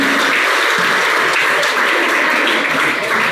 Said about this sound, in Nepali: कृपया उहाँलाई जोरदार ताली लगाइदिनुहोस्